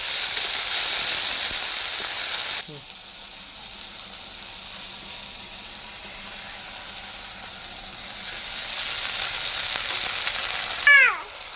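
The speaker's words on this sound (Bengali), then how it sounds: "এবার আমি মশলাটা দিয়ে ভালোভাবে মশলাটা কষাবো।" Ground cumin, ginger, chilli and onion pastes frying in a pan for a katla fish kalia, a steady sizzle that drops quieter partway, with scraping stir strokes and a clink near the end.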